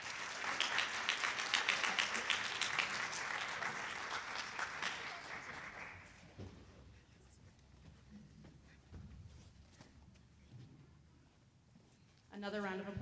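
High school fine arts night audience applauds students, a loud sustained round of clapping that fades after about six seconds into quieter room noise before a voice begins speaking.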